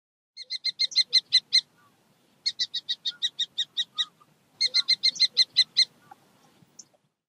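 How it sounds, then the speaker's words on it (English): A falcon gives three bursts of rapid, high-pitched repeated calls, each a quick string of sharp notes, clear and close, with short silent gaps between the bursts. "Falcon."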